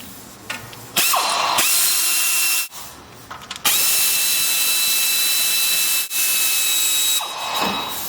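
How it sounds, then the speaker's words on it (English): A power tool drives off the brake caliper slide pin bolts on a Chevy truck: loud whirring bursts with short pauses between them, close up and heard alone. "First thing we're going to do is remove the caliper. You got 2 bolts here. These are slide pin bolts."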